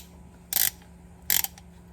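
A torque wrench tightening during a DIY car service gives two crisp, bright ratcheting clicks about three-quarters of a second apart, close and distinct over a quiet background.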